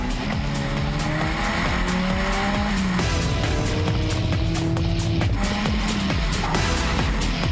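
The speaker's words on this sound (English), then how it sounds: "Then Christoph takes the car around the track on his own." A race car roars past at high revs, engine pitch climbing and dropping through gear changes, with tires squealing, loud and continuous.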